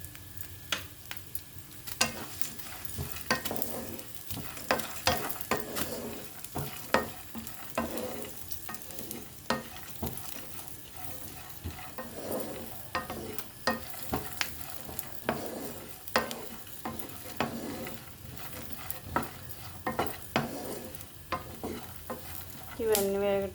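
Watermelon seeds dry-roasting in a pan, stirred steadily with a spatula: repeated scraping strokes and light rattling of seeds against the metal over a faint sizzle, close and continuous with no talking.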